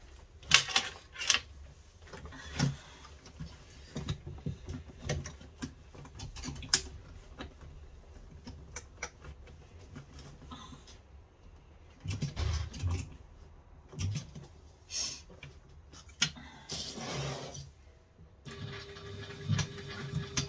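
Sewing machine top stitching a cross body bag, bursts of rapid mechanical clatter separated by pauses and handling noise, close and moderately loud, no talk.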